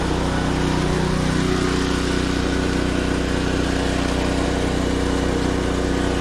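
A pressure washer runs steadily nearby while a car engine bay is degreased before an oil leak repair, giving a loud, unbroken mechanical drone with a low motor hum that never changes.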